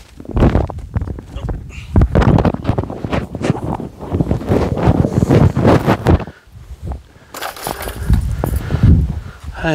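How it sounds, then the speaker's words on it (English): Outdoor wind gusting around a backyard sunken garden build site, a steady rushing roar buffeting the microphone with rustling surges, loud and continuous through the clip, with a voice talking at times. "So you can see the wind's picking up."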